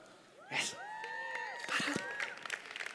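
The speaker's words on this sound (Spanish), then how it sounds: "Que les den un fuerte aplauso." A church congregation applauds the pastor's wife and children, with clapping, whoops and rising cheers from the crowd swelling and fading across the hall.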